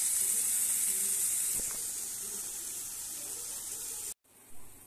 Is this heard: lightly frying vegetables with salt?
yes